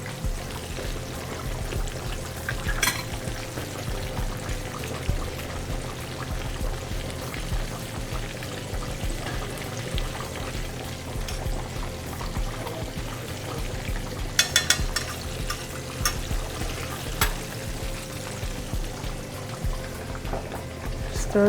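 A cream sauce slowly simmering in a pan, giving a soft, continuous bubbling hiss with faint pops, steady and close throughout.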